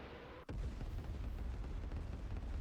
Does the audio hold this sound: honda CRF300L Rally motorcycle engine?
no